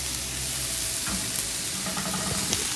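Squash pieces hit a hot pan with celery root already charring in it for vegan enchiladas, setting off a steady, close sizzle and frying hiss with a few stirring clatters. No one speaks.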